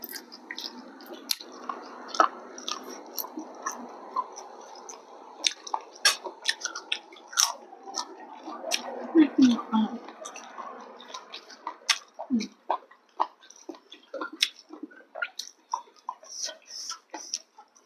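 Close, wet chewing and biting while eating som tam with grilled chicken, a steady run of soft squishy mouth sounds and small clicks over about eighteen seconds, with no talk.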